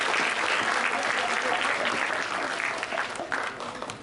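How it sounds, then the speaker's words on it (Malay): At a golden jubilee ceremony for a 50-year-old Faculty of Education, a hall audience claps in a full, continuous round that thins and begins to taper near the end. "Berilah tepuk tangan."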